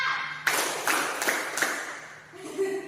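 Children in a classroom clap in unison four times, crisp even claps close by, followed by a brief murmur of voices.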